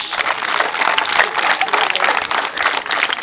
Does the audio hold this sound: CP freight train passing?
no